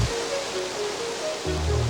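A waterfall roars with a dense, steady rush of falling water, loud and continuous, with a deeper surge near the end.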